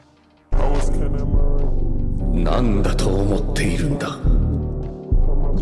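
Dense music with a heavy, dull low end plays continuously, its tone muffled and boxy from bass and treble cut by -100 in After Effects, with shifting filtering, briefly dipping before the beat returns.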